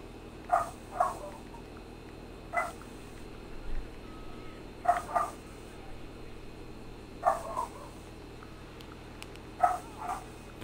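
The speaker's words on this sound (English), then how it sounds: "The dog's in the house and it's in there barking." A dog barking inside a house in GTA Online, muffled paired barks repeating every two seconds or so at moderate distance over a low steady background hum.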